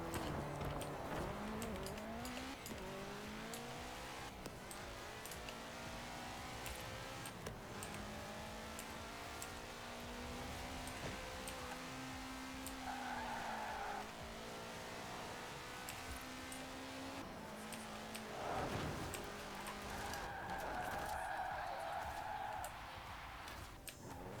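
A car races in Forza Horizon 4, its engine revving up and down in long rising sweeps with bursts of tire squeal during skids, loud and continuous with no speech.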